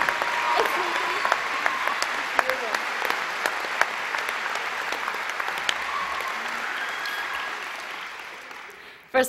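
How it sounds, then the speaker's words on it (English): A college commencement audience applauding steadily, sustained clapping that holds for several seconds and then tapers off. "Please join me in welcoming Emily with a round of applause."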